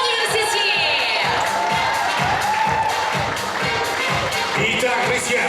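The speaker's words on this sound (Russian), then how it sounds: "Давайте еще раз подарим аплодисменты." A crowd at a university Miss and Mister awards ceremony cheers and claps loudly, a continuous roar of voices and whoops with claps mixed in for several seconds.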